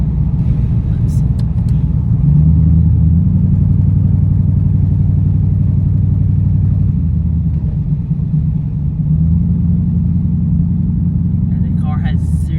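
A Corvette with a fault that leaves it low on power and backfiring drives along back roads, its engine a loud steady rumble with uneven surges and rattling, heard close up from inside the car.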